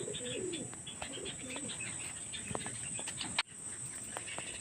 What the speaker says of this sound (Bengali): তো চলুন বন্ধুরা ভিতরে যাই পায়রাগুলোকে এবার খেতে দিই